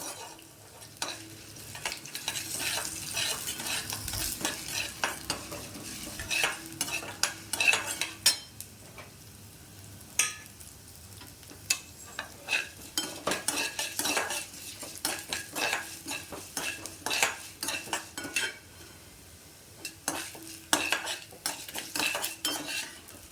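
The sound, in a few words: urad dal and red chillies frying and being stirred in pan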